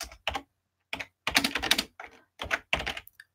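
Quick clusters of clicking keystrokes on a computer keyboard, close and crisp, come in short irregular bursts with brief pauses between words.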